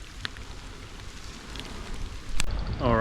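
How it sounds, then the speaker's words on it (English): Steady rain falls on a walking route in Australia, a dense even hiss with a few sharper drops, fairly close, with no talk. "wait for the rain to stop, and then have my lunch."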